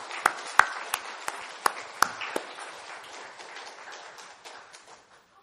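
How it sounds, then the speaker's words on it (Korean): A church congregation claps for a short while, with a few sharp louder claps at the start, then the applause thins out and fades over several seconds. "박수 한번 쳐주세요, 이런 분들."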